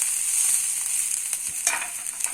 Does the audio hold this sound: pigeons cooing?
no